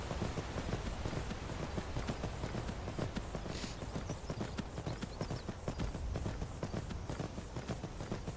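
Horse hooves clip-clop steadily in Skyrim, a rapid rhythmic patter of footfalls sounding close and continuous over a soft ambient bed, with no talk.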